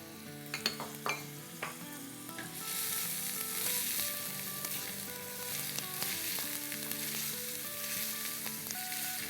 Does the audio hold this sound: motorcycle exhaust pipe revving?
no